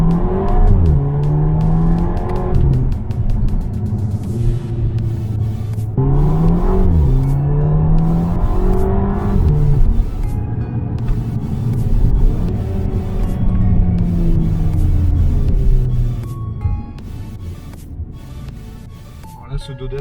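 A 2.0-litre Audi TT TFSI car drives and accelerates from inside the cabin, its engine rising and falling through repeated revs and gear changes, loud and close, while someone talks over it.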